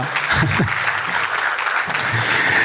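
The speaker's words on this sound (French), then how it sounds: "Vous pouvez l'applaudir, hein, ça lui donnera du courage" Audience at a public lecture applauding to welcome a sociology and anthropology professor, a short burst of steady mid-loud clapping from a seated crowd, with a few murmuring voices underneath.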